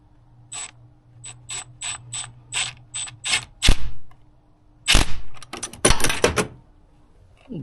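Hose clamps on a BMW G20 turbo intake are tightened with a ratchet, giving a run of evenly spaced clicks followed by a few sharper, louder clacks and rattles close up.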